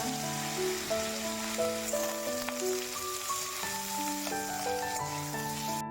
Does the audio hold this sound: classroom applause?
no